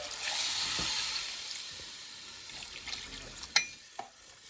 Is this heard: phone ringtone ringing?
no